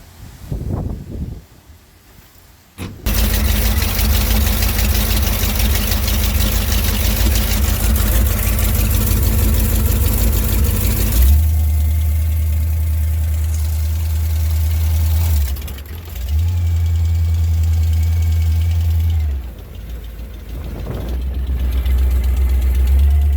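A power boat's V-drive engine cranks briefly and then catches, settling into a loud, steady idle with a deep, rough rumble. It dips and surges a few times as the throttle changes, and there is no talking over it.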